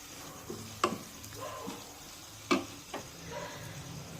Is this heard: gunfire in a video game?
no